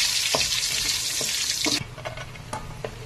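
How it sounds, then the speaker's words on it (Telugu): Cashew nuts frying in hot oil in a pan, giving a dense hissing sizzle that drops abruptly partway, followed by scattered clinks and stirring taps. "బాండిట్లో జీడిపప్పు వేసి బ్రౌన్ కలర్ వచ్చే వరకు వేపుకుందాం"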